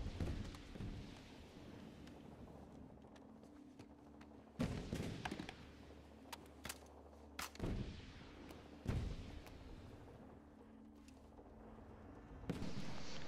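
Sniper rifle shots ring out in the shooter game Medal of Honor Warfighter, about five sharp reports spaced a few seconds apart over quiet battlefield ambience, with no talking.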